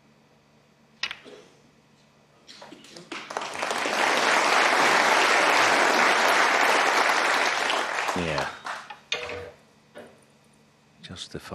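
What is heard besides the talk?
audience applause for a pot at a snooker match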